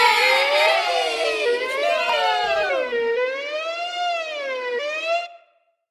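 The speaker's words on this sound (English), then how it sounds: "The police carry Ratulus away in a police car." A police siren wails steadily, rising and falling in long sweeps, loud and close, then cuts off abruptly.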